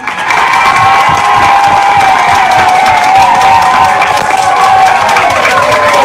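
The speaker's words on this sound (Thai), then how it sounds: "ปรบมือท่านอาจารย์ลัคนาหนึ่งล้านบาทครับ" A large outdoor political rally crowd at Victory Monument cheers and applauds loudly and continuously, a dense wash of clapping and shouting voices with a steady sustained roar throughout.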